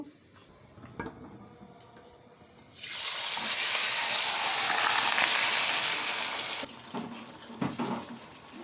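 Marinated pieces hit hot oil with a sudden loud sizzle that holds steadily for several seconds, then eases back, with a few clinks of utensils around it.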